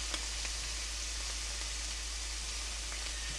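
Shrimp crackle in a hot frying pan with a soft, even sizzle and scattered small pops. The sound is steady and fairly quiet, and no one speaks over it.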